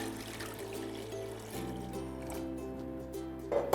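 Water pours into a cooking pot to be boiled for cooking polenta semolina, a steady trickling fill heard up close throughout, growing slightly louder toward the end.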